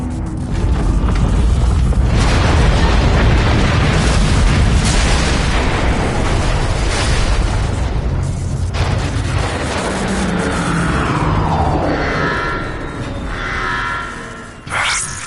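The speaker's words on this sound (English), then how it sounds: "The neutron gun is activating." A neutron gun powers up in Transformers: Fall of Cybertron, a loud, continuous mechanical rumble with booming bursts, easing into sweeping, rising whooshes before a brief final surge.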